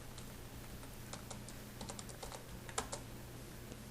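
Keys on a computer keyboard tap out PHP code in soft, fairly quiet irregular clicks against a steady low hum, with a slightly louder cluster near the end and no voice.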